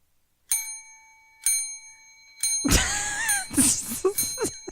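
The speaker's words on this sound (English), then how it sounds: "We don't use the bell for accompaniment enough." A bell rings in three separate, evenly spaced dings with long ringing decay, then a loud burst of clattering, thumping noise overwhelms it.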